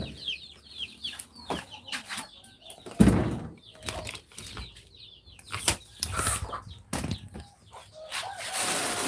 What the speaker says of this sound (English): Now that I get to feed all the chickens, they're coming.